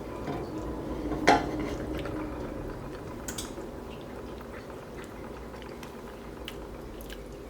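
Cutlery clinks against a pot or dish of slow-cooked beef as it is tasted, one sharp clatter standing out early over a low, steady kitchen background, followed by faint scattered scrapes.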